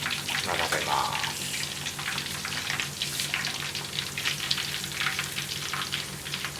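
Food deep-frying in hot oil gives a dense, steady crackling sizzle throughout, close and fairly loud, with brief soft speech underneath.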